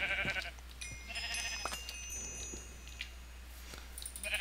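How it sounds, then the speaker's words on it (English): Blocky sheep in a modded Minecraft-style game bleat several times, short nasal calls heard among scattered game chimes and effects, fairly quiet and close. "It was a sheep."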